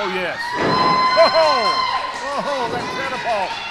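A wrestling arena crowd cheering and shouting, a swell of roaring voices with whoops and excited cries rising and falling, with a commentator's voice over it.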